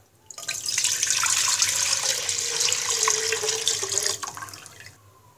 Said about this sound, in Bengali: প্রথমে আমি একটি পাতিলে 1 কেজি পরিমাণ দুধ ঢেলে দিব।